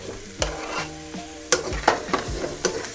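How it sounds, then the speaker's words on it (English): Spicy sausage sizzling in a frying pan for a tomato basil pasta, with several sharp clatters of stirring, close up, with no voices. "You can hear the sizzling sound."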